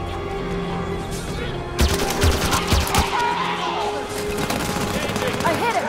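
Dense gunfire from a Halo 5 campaign firefight, with a steady rattle of shots and sharp impacts from about two seconds onward, loud and close, running under shouted voices.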